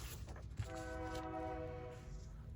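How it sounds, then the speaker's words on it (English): A slow freight train rolls through an intersection, its horn holding a loud, sustained multi-tone blast over a steady rumble, heard from nearby. "oh, we have a train"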